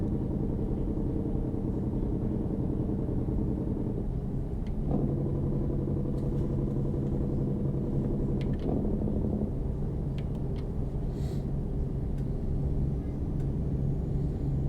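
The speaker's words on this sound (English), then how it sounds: "The sound of that Jake brake is really nice from inside the cab" Truck Jake brake engine braking heard from inside the cab in American Truck Simulator, a low steady rumbling drone with pitch shifts as the brake engages, moderately quiet with no speech.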